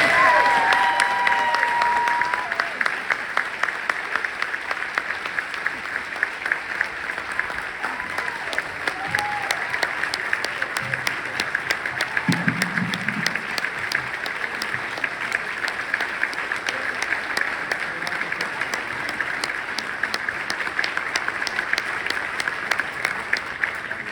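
Big round of applause at an evening awards ceremony as the 2024 John A. Eudes Vision & Excellence Award recipient Laura Lee Jones is introduced, dense sustained clapping from a large audience with a few cheers, filling the room for over twenty seconds.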